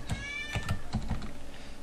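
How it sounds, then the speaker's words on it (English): Quick, uneven keystrokes clatter on a computer keyboard with caps lock on, close and fairly loud, in short bursts of clicks with brief pauses, no voices. "We can start typing in there."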